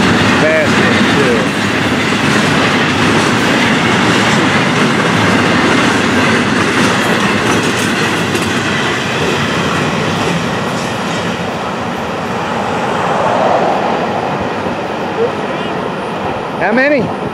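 A fast Florida East Coast Railway freight with double-stack and piggyback cars roars past close by, a loud, unbroken rumble and clatter of wheels on rails with a brief squeal near the end.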